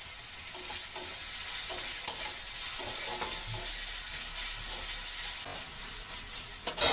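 Onions sizzle and fry steadily in a pan after a pinch of salt goes in, with occasional stirring scrapes and clicks over a constant bright hiss, no talking.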